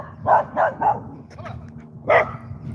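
A small dog out in the street barks three sharp times in quick succession, pauses, then lets out one more loud yap, heard fairly close over low background noise.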